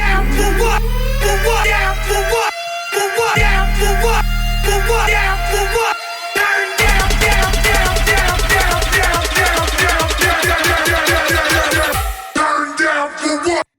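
A hybrid trap build-up made in the Vital synth, with a brief synth tease: sustained synth phrases with deep bass drop out, then return before rapid stuttering hits accelerate and pitch downward into a short final burst.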